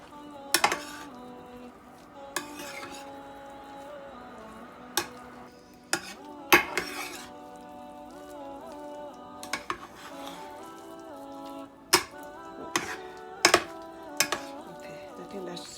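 Stew ingredients are mixed in a pot, with sharp metallic clinks and knocks of the utensil against the pot at irregular intervals over a low background hum.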